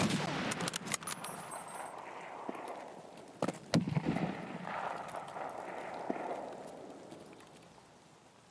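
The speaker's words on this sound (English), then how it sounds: "I can hear some shots out that way." Distant gunfire in Escape from Tarkov, with scattered sharp cracks and a short cluster of shots midway, faint and far off over a steady outdoor ambience.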